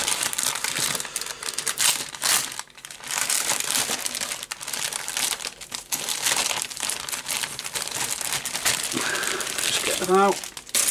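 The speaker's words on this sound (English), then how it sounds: "We shall do the bag of sprues now." Plastic bag holding sprues for a 1/72 scale Eduard MiG-21 ProfiPACK model kit being handled and opened, continuous crinkling and rustling up close, with a short voice near the end.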